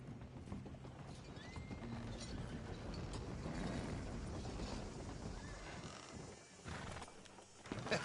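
Horse hooves clip-clop in Red Dead Redemption 2, a steady, fairly close stream of footfalls running the whole way under game ambience, with a possible whinny and a louder rattle near the end.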